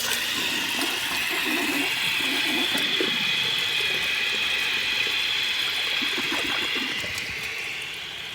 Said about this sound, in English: I wanted to show you though just how much water that Kohler wellworth flushed